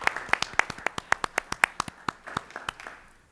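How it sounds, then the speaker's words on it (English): A small group claps at a school district governing board meeting to welcome a new administrator, giving about twenty crisp, quick claps that fade out within a few seconds. "Can we clap now?"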